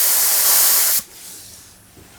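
A loud, close airbrush spray hisses steadily for about a second, then cuts off, leaving a quieter airy hiss that trails away.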